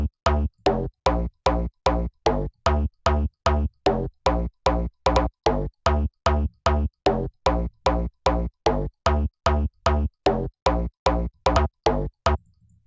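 Bounce-style bass line from FL Studio played solo, a long even train of short, loud, punchy bass notes firing at a quick steady pace for about twelve seconds before stopping abruptly.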